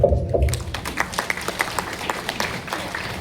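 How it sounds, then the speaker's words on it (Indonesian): Scattered applause from a church gathering follows a short spoken phrase, a loose patter of individual claps that thins out unevenly over a few seconds. "Tepuk tangan."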